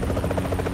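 Hind attack helicopter in a video game, a steady pulsing rotor chop with a low engine drone, loud and continuous over a brief moment, no voices.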